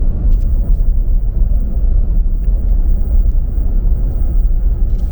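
A vehicle heading down a mountain road gives off a steady, loud, low engine and road rumble, heard from inside the cabin, with no talking over it.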